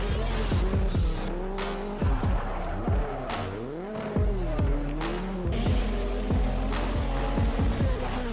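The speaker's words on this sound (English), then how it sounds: "This is the Lancia O37, and it tore up the Group B rally back in its day." Lancia 037 Group B rally car, engine revving hard and rising and falling through repeated gear changes, with tyre squeal and bursts of skidding, loud and close.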